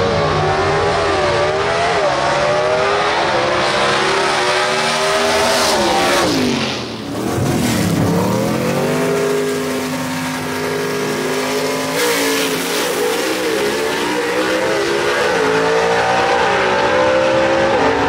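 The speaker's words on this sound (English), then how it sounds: "he drove around and Kevin Burke got left on the line" Gasser drag race cars at Knoxville Dragway roar loudly and close by, their engines revving with rising and falling pitch sweeps throughout and a brief dip midway. Nobody speaks.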